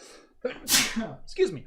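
A single sharp human sneeze bursts out, close and loud, followed by a short spoken word from the person.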